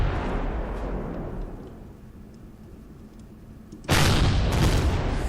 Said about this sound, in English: So let's have some fun with the rockets over here.